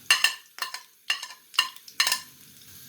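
Sliced onions, three of them, tossed into hot oil in a pan, with five short bursts of stirring and sizzling scrapes about half a second apart, close and fairly loud.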